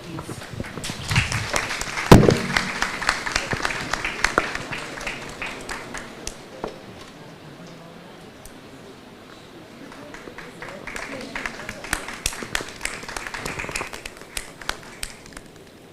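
Conference audience applause at a national physiology meeting: scattered claps and taps rise into a denser, moderately loud patter near the end, with people talking throughout.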